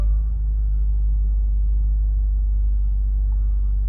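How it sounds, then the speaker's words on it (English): A 2021 BMW M8 Gran Coupe reverses out of a parking space under backup assist, giving a steady, close, low engine rumble that holds evenly throughout with no one speaking. "the car will assist you in backing up out of your space"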